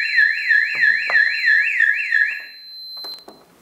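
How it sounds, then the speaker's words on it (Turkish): Fire alarm set off by a Teletek MCP 50 manual call point: a loud, close electronic siren sweeping up and down in a steady wavering rhythm for about two seconds, then stopping, followed by a few faint clicks. "Dolayısıyla bu plastik aksama basıldığında sistem alarma geçiyor."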